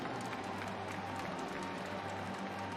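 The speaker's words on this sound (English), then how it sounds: "And some applause from the Trentino fans sitting behind the replay system." Trentino volleyball fans applaud steadily during a challenge review at a 2022 CEV Club Championship semifinal against Perugia, a dense, even crowd clapping that stays at moderate volume throughout.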